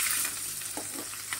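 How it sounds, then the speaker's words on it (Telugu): Curry leaves crackle and hiss in a hot pan for karivepaku pachadi, a brief, steady sizzle with a few soft pops near the end. "కొద్దిగా కరివేపాకు వేసుకోవాలి."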